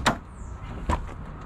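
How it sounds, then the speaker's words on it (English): Rear door of a 19-foot Winnebago B-class camper van being opened, two sharp clunks of the latch and door about a second apart, close and fairly loud. "we have the nice rear door,"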